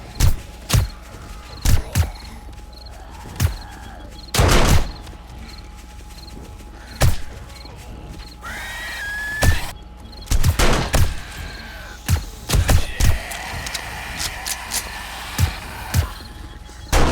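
Automated turret firing in the 7 Days To Die zombie survival game, sharp loud shots in irregular bursts and single cracks spread across the span, with no talking.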